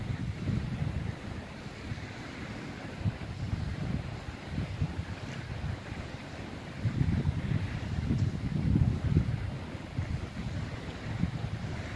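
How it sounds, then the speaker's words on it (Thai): On a windy coast in Norway, loud sea waves roll in under strong gusts of wind, making a steady roaring wash with broad swells of rumble and no voices. "เสียงคลื่นทะเลดังมากเลยค่ะลมแรงเนาะคลื่นทะเลก็จะเสียงดังนิดนึง"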